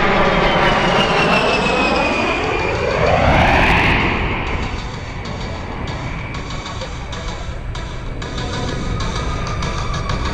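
An A-10 jet aircraft flies past at an air show in Cleveland: a loud roaring engine whose pitch sweeps down as it passes, then a steady fainter drone as it carries on maneuvering.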